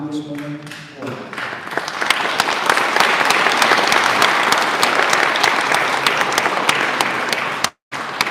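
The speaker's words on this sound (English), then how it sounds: "big round of applause for Congresswoman Porter." A crowd at a community event applauds Congresswoman Porter, with steady, dense clapping that swells and holds loud before cutting off abruptly near the end.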